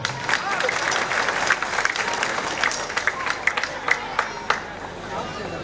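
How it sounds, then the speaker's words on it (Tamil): Audience applause at a Tamil comedy speech event, a steady wash of clapping from a crowd with some chatter and babble mixed in, thinning toward the end to a few scattered claps. "எல்லாமே கைத்தட்டுங்க."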